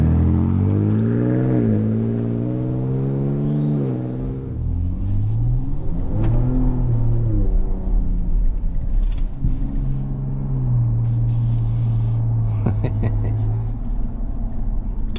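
A 2025 Ford Ranger Raptor rumbles along the road, its engine rising and falling through several gear changes, with a person talking over the steady drive noise.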